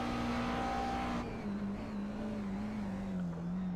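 Race car engine drones steadily in a racing video game at the Montreal circuit, a sustained tone that shifts pitch slightly as the car accelerates and holds speed, with a faint tire squeal.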